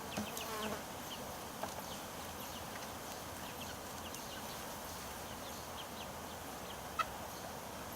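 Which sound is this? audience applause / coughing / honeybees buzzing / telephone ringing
honeybees buzzing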